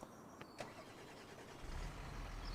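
In the farming game Farming Simulator 25, a John Deere tractor engine cranks with a short whir and a couple of clicks, then catches into a low, steady rumbling idle, heard quietly and without talk.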